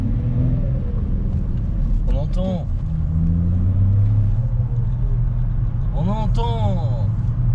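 BMW 530d diesel engine with an aftermarket exhaust line, wastegate and dump valve, a steady loud rumble with brief whooshing bursts, heard under a voice.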